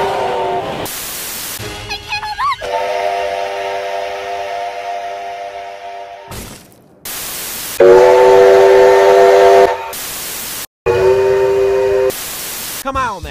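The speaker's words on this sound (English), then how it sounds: "Steam engines have whistles that sound like this." The NSWGR 3801 steam locomotive's whistle sounds in several loud, sustained blasts, broken up by abrupt bursts of harsh static between them.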